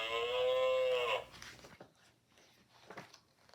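A loud, sustained moo of cattle in unison opens, long and tonal for about a second, then fades into quieter rustling and faint background movement.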